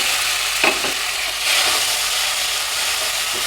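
Chopped tomatoes sizzling and frying in a pan for a Kerala tomato yoghurt curry, with a steady loud hiss and a few brief stirring scrapes near the start.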